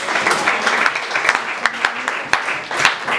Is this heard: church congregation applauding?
yes